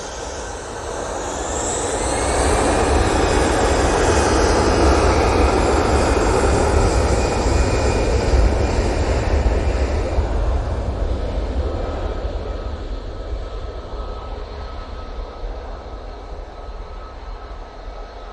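A KLM jet airliner taking off from Manchester Airport bound for Geneva, its engine roar building to a loud sustained rush with a rising whine, then slowly fading as it climbs away.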